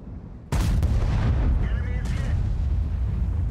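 A tank gun fires in World of Tanks with a sudden, heavy boom, followed by a long rolling rumble and a brief sharper crack partway through, while a voice talks over it.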